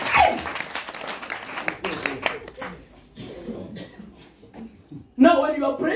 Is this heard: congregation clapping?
yes